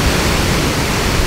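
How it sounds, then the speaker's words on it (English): Roar of a huge waterfall close by at Gris Gris in Mauritius, a dense, steady wash of broadband noise that fills the whole moment, loud and unbroken. "there is a huge waterfall right behind me"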